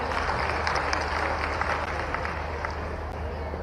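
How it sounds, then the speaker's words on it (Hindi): Loud, continuous applause and clapping from a large crowd at a public event in honour of Mohan ji, a steady dense wash of claps held for the whole stretch without a break. "एक बार जोरदार मोहन जी की ताली बजाइए।"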